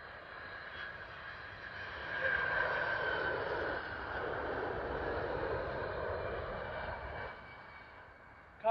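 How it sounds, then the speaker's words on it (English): A United Airlines Boeing 767 from Newark lands at London Heathrow, its engines a broad, steady roar that swells and then holds at a moderate distance throughout. "Coming in now is a United Airlines flight, one of a Boeing 767 from EWR in New York also."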